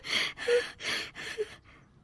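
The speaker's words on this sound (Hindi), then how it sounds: "अपना गला साफ कर रहे हैं" Someone clears their throat forcefully several times in a row, four rough bursts, the last one softer and fading.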